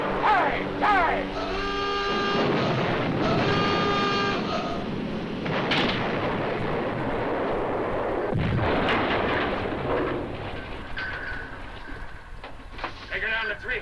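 A submarine's deck gun fires at a ship's bridge in a 1958 war film. Heavy booming shots and blasts ring out amid loud battle noise and sirens, with voices shouting over them.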